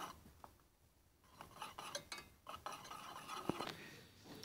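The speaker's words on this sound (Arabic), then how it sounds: "وغادي نبقى نحرك حتى يذوب بهذيك الحراره ديال الخليط" A utensil stirs a warm caramel mirror-glaze mixture with dissolving gelatin in a pot, giving faint, close clinks and scrapes in an uneven rhythm with one louder tap.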